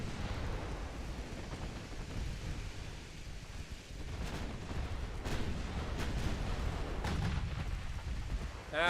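Naval artillery fire in the warship game Ultimate Admiral Dreadnought, a steady rumbling barrage of distant booms rolling under continuous low roar, with sharper reports breaking through now and then.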